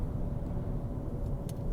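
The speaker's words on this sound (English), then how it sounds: "so I'm driving home now" A car drives home along a road toward a school zone, its steady low engine and tire rumble continuous and close from inside the cabin, with no talking.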